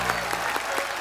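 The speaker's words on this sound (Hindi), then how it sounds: "जोरदार तालियां" A studio audience at a TV comedy show breaks into loud, dense applause, a brief burst of many hands clapping at once.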